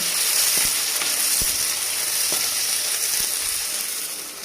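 Onions sautéing in a pan, a dense, steady sizzle heard close up, with a few sharp clicks and scrapes from stirring spaced through it, easing slightly toward the end.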